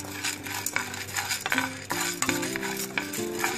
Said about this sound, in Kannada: ಸೊ ಇದು ಕಲರ್ ಚೇಂಜ್ ಆಗೋವರೆಗೂ ಫ್ರೈ ಮಾಡ್ಕೊಳ್ಳೋಣ